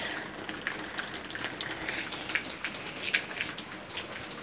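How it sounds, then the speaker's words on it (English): Light rain patters steadily outdoors in Texas, with soft scattered drops ticking on nearby surfaces against a faint, even hiss. "It's not raining that hard."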